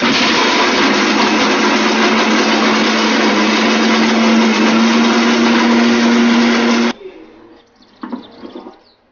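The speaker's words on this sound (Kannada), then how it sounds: "ಮಿಕ್ಸಿಲಿ ಹಾಕೋಬೇಕು, ಮಿಕ್ಸಿ ಮಾಡ್ಕೋಬೇಕು ಅದನ್ನು." A kitchen mixer grinder whirs loudly and steadily as it grinds pongamia seeds into powder, then cuts off abruptly, leaving a few faint clicks and rattles afterward.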